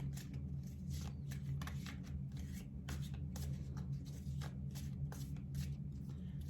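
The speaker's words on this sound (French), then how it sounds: "On va tirer les cartes pour voir." Tarot cards are shuffled and drawn by hand, giving soft papery riffles and slides in quick irregular flurries over a low background hum.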